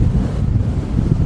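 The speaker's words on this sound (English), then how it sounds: "It's really windy." Strong gusting wind buffets a microphone outdoors by a castle on the Northumberland coast, a loud, constant low rumble and roar with no voices.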